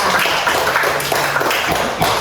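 Schoolchildren in a classroom give a short round of dense, steady clapping for a classmate, close and fairly loud, lasting a couple of seconds with no voices over it.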